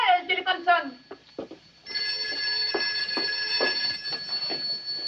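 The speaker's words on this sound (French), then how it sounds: "le téléphone sonne" An old telephone bell rings in repeated bursts close by, heard after a man's short spoken phrase, with a steady electric tone sounding through the ringing.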